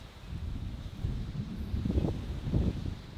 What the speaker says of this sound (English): Oh, it's very windy here.